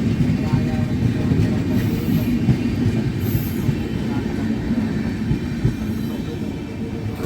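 The New Delhi Amrit Bharat Express, hauled by a WAP 7 electric locomotive, departs Ekdil railway station: a loud, steady rolling rumble of wheels and carriages with faint high squeals drifting over it throughout.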